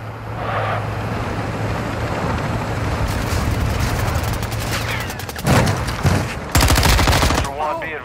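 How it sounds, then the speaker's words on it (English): Video game gunfire crackles in rapid automatic bursts, dense rattling volleys building toward the end over a background rumble, close and loud. "You are taking effective fire."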